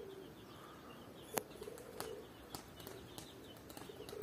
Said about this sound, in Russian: Вот такой полет голубей